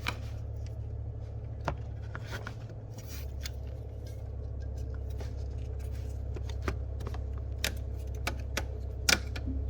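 A torque wrench tightening the water pump pulley bolts on a BMW E46 M3 with the S54 engine, heard as scattered sharp clicks and ticks over a steady low hum in a workshop.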